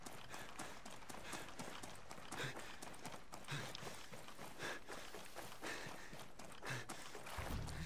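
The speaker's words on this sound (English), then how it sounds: "Footsteps." Enemy footsteps in the video game Ghost Recon Breakpoint, a steady, quick series of soft thuds heard faintly under a constant noisy game ambience.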